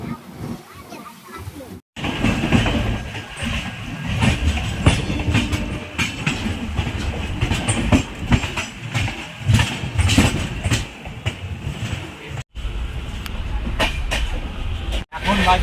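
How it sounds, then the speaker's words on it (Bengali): A long-distance Howrah–New Delhi express pulling out of Patna Junction, heard from inside as a loud rumbling roll with clattering wheels and engine drone, steady and close, briefly cut by a couple of sharp gaps. "পাটনা জংশন থেকে এই সাথে আমাদের ট্রেন ছাড়লো"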